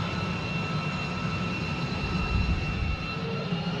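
F-35 jet engine running in a hover pit that vents hot gases out the side, a loud, steady roaring whine with a continuous high-pitched tone and no pauses.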